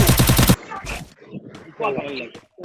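Rapid automatic gunfire in the Free Fire mobile game, a dense burst of shots at the start, then someone talks excitedly with some scattered game sounds under his voice.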